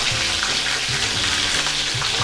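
Soya chunks coated in flour batter fry in hot oil, producing a loud, continuous, close sizzle with crackling pops and splatters throughout, no voices.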